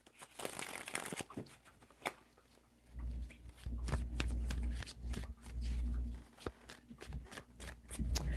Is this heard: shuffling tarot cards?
yes